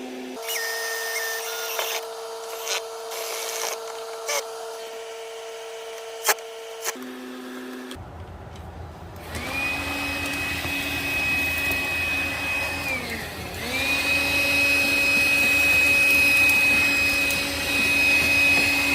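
A power drill fitted with a step bit bores holes in aluminum while fitting RV steps, running in steady whirring bursts with pauses, then a longer sustained high-pitched drilling with a pitch dip midway, close and fairly loud.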